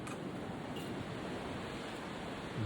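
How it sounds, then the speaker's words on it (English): Storm wind gusts steadily outdoors near a tree, a continuous broadband rush with a brief louder surge at the end and no voices. "the wind is still gusting a bit"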